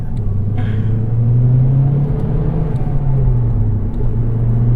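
A 2013 Mazdaspeed 3 turbocharged engine revving while driving, a loud, steady cabin-heard drone and rumble that rises and eases slightly, with no talk over it.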